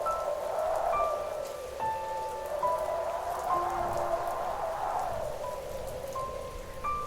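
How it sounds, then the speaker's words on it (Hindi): Steady rain patters on a surface in a continuous wash, with faint tonal hums drifting in the background and no talking. "बारिश तो बहुत तेज हो रही है।"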